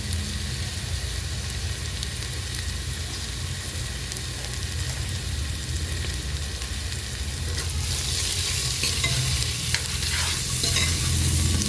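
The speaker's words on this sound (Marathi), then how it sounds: "लसूण ब्राऊन व्हायला आलं आहे त्यात आपण कोथंबीर अद्रक आणि लसूणची पेस्ट केलेली ती टाकून घेणार आहोत" Garlic browning in hot oil with a coriander, ginger and garlic paste stirred in for a simple chicken rassa, a steady dense sizzle throughout that swells louder and brighter in the last few seconds, with no talking.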